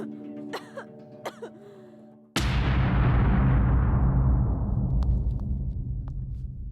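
A few short coughs and throat-clearing sounds in a Hindi-dubbed horror film, then a sudden loud crashing burst that slowly rumbles away.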